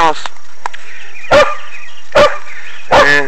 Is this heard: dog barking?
yes